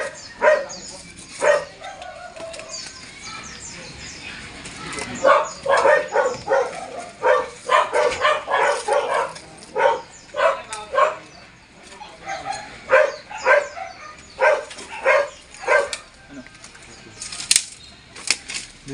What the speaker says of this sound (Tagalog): Pero dito po siya lagi kami tinatahulan.